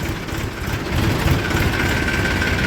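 A Swaraj 745 tractor engine idles nearby after morning ploughing, a steady low rumbling throb that grows slightly louder partway through, with no talking.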